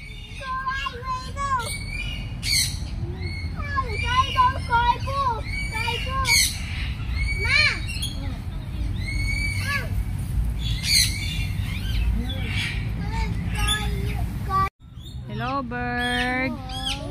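Bird at a wildlife park squawking repeatedly in sharp, loud calls, close by, over a steady background of crowd noise and children's voices.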